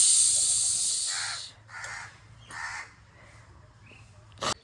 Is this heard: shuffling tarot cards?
no